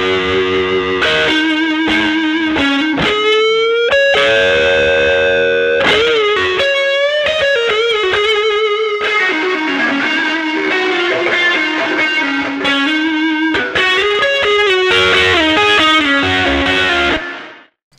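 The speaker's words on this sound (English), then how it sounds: "it's got drive, and then it's got reverb, and then it's got drive after that" A guitar played through a Safari Pedals plugin chain of drive, reverb, then drive again, gritty and sustained, with notes blooming into washy reverb tails before a sudden cutoff at the end.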